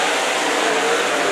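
Stock race cars of the USRA class roar around a dirt track at Humboldt, a loud, continuous engine drone with no break and no voices.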